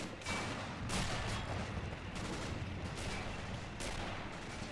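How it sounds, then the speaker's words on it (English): Mortar rounds land close to a Soviet T-34 tank amid German infantry in a Stalingrad battle game, sounding as a steady roar of distant explosions and gunfire with several sharper bursts standing out, and no voices. "Could it be Soviet mortars trying to target the German infantry around it?"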